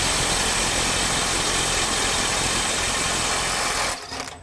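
A RIDGID mid-torque impact wrench set to 250 foot-pounds on speed 2 hammers with a loud, continuous, dense rattle for about four seconds, then cuts off into quieter handling noise.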